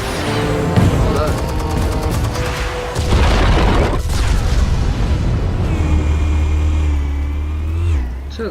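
Loud, heavy explosions and deep rumbling booms fill a Batman video game, with bursts of blasts and a sustained roar that fades near the end.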